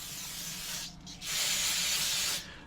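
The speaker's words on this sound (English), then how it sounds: "I'm just going to do a light cleaning, non-chlorinated brake cleaner. Essentially, it's acetone in a can." Non-chlorinated brake cleaner sprays from an aerosol can in two close, loud hissing bursts separated by a brief pause.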